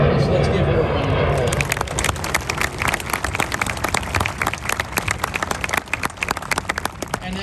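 Dense applause from a crowd at a US Marine graduation ceremony in San Diego, many hands clapping steadily, with a speaking voice audible over the start before the clapping thins into scattered claps.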